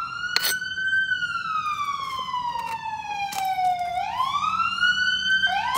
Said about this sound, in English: like an ambulance is coming down my street.